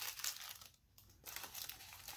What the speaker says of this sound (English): I picked up some of these cupcake liners.